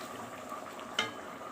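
Dawood Basha kofta meatballs simmering in tomato sauce in a pan get a brief stir, soft bubbling throughout with one small scrape of a utensil, heard alone.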